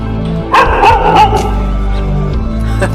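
A pack of dogs at a gate bark and yip loudly in several overlapping bursts, with a whimper mixed in, close by and continuing through the moment.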